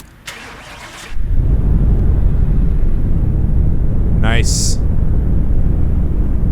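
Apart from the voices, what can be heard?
Dodge RAM 3500 engine starting in Car Mechanic Simulator 2018 video game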